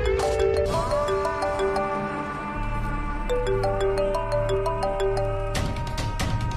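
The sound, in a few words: phone ringtone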